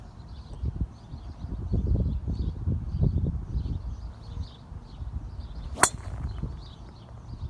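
A golf club strikes a golf ball with a single sharp, bright click near the end, heard over soft background rustle and low outdoor noise.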